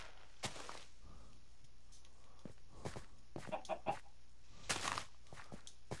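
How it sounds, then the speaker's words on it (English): A bunch of Minecraft chickens cluck in short, scattered bursts over a quiet low hum, several close squawks landing in quick succession near the end. "Now we do have a bunch of chickens here."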